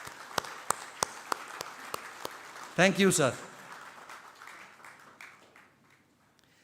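At a school's 25th-anniversary felicitation, a handful of scattered, evenly spaced claps sound in a hall, then someone briefly speaks and quieter room noise follows.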